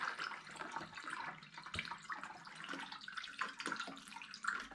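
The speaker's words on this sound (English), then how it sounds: "So I need to add apple juice to this now and top it up" Apple juice pours steadily into a vessel of hard cider to top it up, giving a continuous close splashing and trickling liquid sound with no speech.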